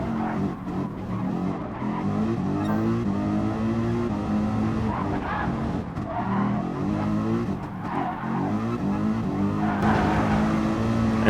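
Race car engine at full speed in GT Sport on the Nürburgring: a loud, steady high-revving drone with shifting pitch, tire squeal and gear changes, continuous throughout.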